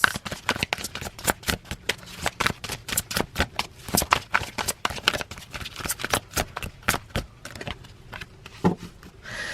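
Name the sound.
tarot cards being shuffled for a reading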